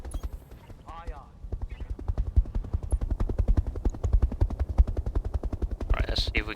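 Rapid rhythmic thumping of a helicopter's rotor in the BattleTech video game during an urban battle, steady and moderately loud, with brief radio-style voices at the start and end.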